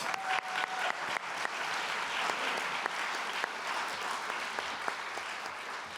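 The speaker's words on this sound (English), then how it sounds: "Let's give them a round of applause." Audience applause for volunteers at the Bloomington Be More Awards ceremony in 2024, a dense, steady wash of many hands clapping that holds strong for the whole stretch without a break.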